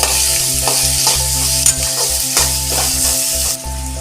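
Small shallots fry with a steady loud sizzle in a pan while being stirred for chicken uppu kari, with scraping strokes recurring through the sound and no voices.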